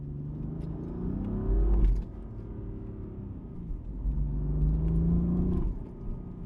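A BMW M4 engine with an Eventuri intake drones and rumbles steadily with a breathy intake whoosh, swelling twice as the revs rise, heard from inside the car.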